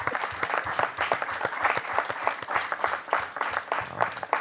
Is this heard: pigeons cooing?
no